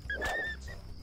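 Dog in the video game Deus Ex: Revision gives a single short whining, wheezy vocalization, fairly close and clear, fading into quiet game ambience.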